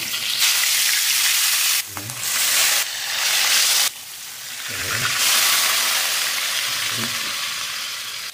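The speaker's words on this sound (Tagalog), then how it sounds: "Habang tayo nagpiprito, ihahanda ko yung mga spices na gagamitin dyan." Steady loud sizzling of tanigue (Spanish mackerel) frying in hot oil in a pan, continuous crackle with a few brief low thumps and pauses.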